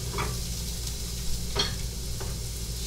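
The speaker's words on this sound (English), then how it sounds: "we flip the burger" A burger sizzles in a frying pan and is flipped, giving a steady soft crackle with a few brief scraping clatters from a spatula, close and moderately quiet, with no talk.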